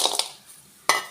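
Lumps of jaggery drop into a metal cooking pot on a gas stove, making a quick clatter of clinks and knocks, a brief pause, then one more sharp metallic clink, close by and with no speech.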